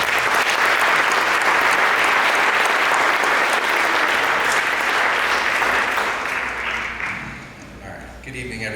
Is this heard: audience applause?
yes